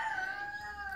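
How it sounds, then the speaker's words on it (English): A rooster crows among a flock of chickens, one sustained, strained call heard at moderate distance over a quiet background. "Chickens. Lots of chickens."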